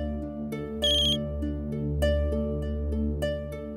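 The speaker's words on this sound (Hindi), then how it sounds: "युवराज का फोन" A phone ringtone plays steadily, a looping electronic melody with bright tonal notes repeating in a regular pattern, clear and alone.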